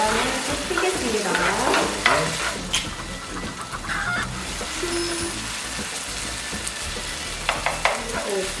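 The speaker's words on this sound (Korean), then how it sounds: "감자와 양파를 팬에 넣고 감자가 부드럽고 약간 황금빛 갈색이 될 때까지 저어줍니다." Potatoes and onions sizzle loudly in a pan while being stirred for a Mediterranean dish, a continuous close frying hiss with scraping, clattering stirs throughout.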